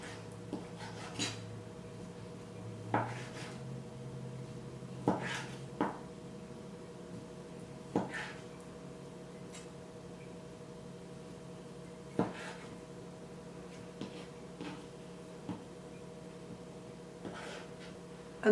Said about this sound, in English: we're just going to cube it up